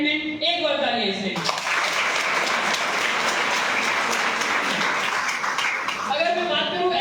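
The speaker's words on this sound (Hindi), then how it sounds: "एक बार तालियां इसे" Sustained crowd applause, dense and loud, filling the middle of the clip, with a voice talking briefly before and after it.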